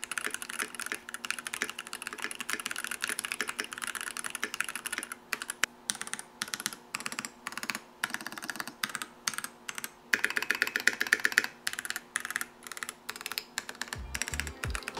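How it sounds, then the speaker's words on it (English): Typing on a Keychron V1 keyboard with stock factory-lubed brown switches and lubed stabilizers: rapid, close, muted clacks in an even stream, with a brief burst of heavier key presses near the end. "here's what this keyboard sounds like stock with the factory lubed brown switches and lubed up stabs."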